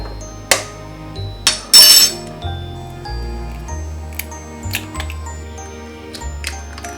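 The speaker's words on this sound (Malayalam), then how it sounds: "ഇത് നന്നായിട്ട് ബീറ്റ് ചെയ്യാം." Two eggs are beaten in a bowl for a cake batter, a whisk or spoon clinking against the sides in quick irregular taps, with a few sharper knocks, close and clear without talk.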